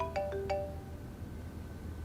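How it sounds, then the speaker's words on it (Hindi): A mobile phone rings with a short electronic ringtone, a few bright chiming notes in quick succession near the start, then fading into quiet room tone with no talking. "भाईजान का फोन आ रहा है।"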